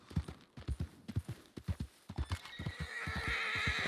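A horse's hooves clop in a steady, close rhythm while riding in a Wild West roleplay game, with a rising whinny and breathy noise at the end.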